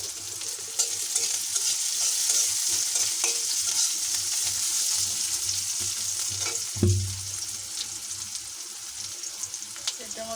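Onions and green chillies sizzle in a pan, a steady bright frying hiss lasting the whole time. Stirring scrapes and knocks break in now and then, and one louder clatter comes near the middle, with soft speech faintly in the background.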